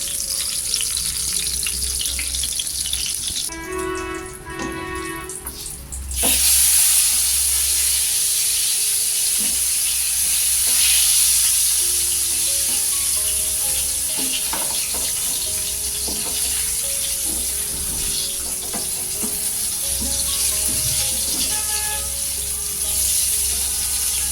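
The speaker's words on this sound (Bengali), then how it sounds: "এই তো বেগুন ভাজা কিন্তু হয়ে গেছে।" Slices of eggplant (brinjal) fry in plenty of hot oil with a steady, dense sizzle that runs throughout, briefly changing in texture partway through, with no voices.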